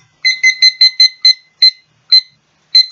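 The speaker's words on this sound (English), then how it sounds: "So I'm going to put my timer on." A kitchen timer on a stovetop beeps in quick, sharp, high-pitched pulses, a fast burst of about six beeps followed by three more widely spaced ones, loud and close with silence between.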